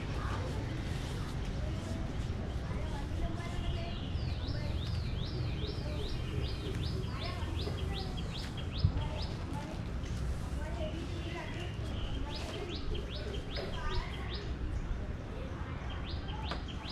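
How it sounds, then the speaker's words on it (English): Birds chirp and trill outdoors in repeated quick bursts over a steady wash of ambient noise, fairly distant and moderate in volume. "Listen to the birds, listen to the nature."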